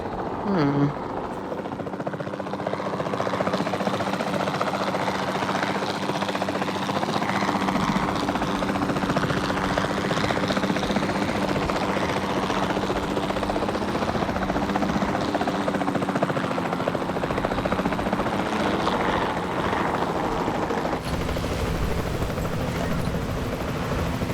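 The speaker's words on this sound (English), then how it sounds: "Then the sensible thing is to take a capture team helicopter." A capture team helicopter in the video game Jurassic World Evolution 2 gives off a loud, continuous rotor thrum and engine drone that holds steady for the whole stretch.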